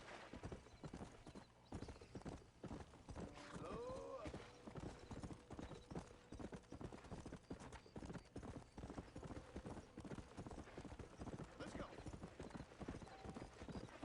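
Horse hooves clip-clop in a steady rapid gallop in Red Dead Redemption, mixed with game music and ambience, with a neigh partway through and a voice talking over it.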